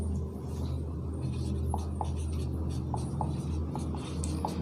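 Chalk or marker on a board during a Hindi grammar lesson gives a series of short, faint scratching strokes in an uneven rhythm over a low room rumble.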